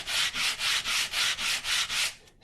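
A wooden internal brace sanded by hand, with eight steady back-and-forth strokes in a regular rasping rhythm, close and fairly loud, with no talking.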